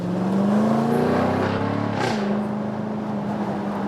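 Jaguar F-Type V8 P450 R-Dynamic convertible driving uphill in dynamic mode, its engine a loud, steady, throaty drone with a brief rise and dip in pitch partway through, continuous and close throughout.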